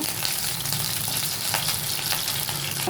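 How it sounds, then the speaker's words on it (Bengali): Cut potatoes frying in a pan for a mushroom dish, a dense, continuous close sizzle and crackle with no talk. "কেটে রাখা আলুগুলো আমি ভেজে নেব আলুগুলোকে একটু ভালো করে ভেজে নেব"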